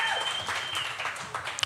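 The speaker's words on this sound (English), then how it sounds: "Give yourselves a round of applause for being here" Audience applause in a live event hall, a dense steady wash of clapping from a crowd, moderately loud and continuous with a few sharper claps near the end.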